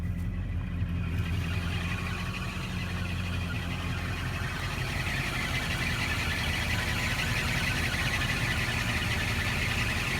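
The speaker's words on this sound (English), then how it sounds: "I can hear the engine note change." A Rover SD1 engine idles steadily and close by, a low, even hum. Its note shifts slightly near the start as the lights are switched on, then holds constant.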